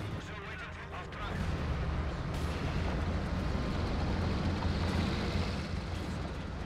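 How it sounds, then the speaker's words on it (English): Artillery fire in Company of Heroes 2, a dense rumbling barrage of deep booms building after the first second and rolling on steadily, loud and continuous, with game noise mixed in. "Whoa, artillery!"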